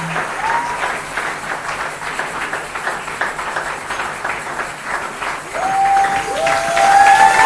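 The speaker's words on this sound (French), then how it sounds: "Avancez, nous acclamons très fort le Seigneur." A church congregation applauds and cheers for the Lord, dense sustained clapping from a large crowd that swells louder toward the end, with a voice briefly audible over it.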